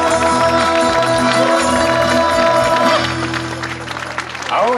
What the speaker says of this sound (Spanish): le damos un fuerte y merecido aplauso a la presentación del ballet folclórico de nuestra comuna de San Bernardo